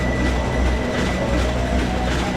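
A train pulling in to dock in the video game Ratchet & Clank, a loud sustained rumbling rail noise with low engine drone and a faint steady tone, no voices.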